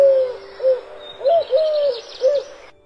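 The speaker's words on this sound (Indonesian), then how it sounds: "Bagaimana suara burung?" Pet bird cooing: soft, hooting coos repeated four or five times in an uneven rhythm, close and clear against a quiet background.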